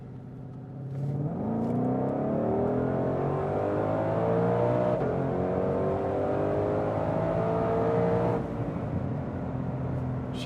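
A 2020 Shelby GT500 in sport mode accelerating hard from a slow roll in third gear, its engine note climbing steadily and loudly from a low growl to a high roar before easing off near the end.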